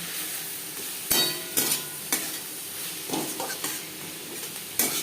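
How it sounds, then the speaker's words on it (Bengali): Onion, tomato, turmeric and salt are stirred in oil in a pan for a tilapia fish curry, with a soft sizzle under several sharp scraping clinks of the spoon against the pan. "লবণ হলুদ পেঁয়াজ টমেটোর সাথে মিক্স করে দেবো।"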